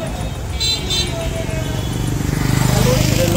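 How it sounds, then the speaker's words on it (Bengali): A vehicle approaching at the old stand in Mirzapur, its engine hum swelling louder toward the end, while a person speaks nearby. "গাড়ি আইতেছে।"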